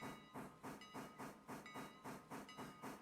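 A freight train rolls along in the game Railroader, its steam locomotive chuffing in a steady rhythmic beat of hissing exhaust bursts, loud and close, with no talk.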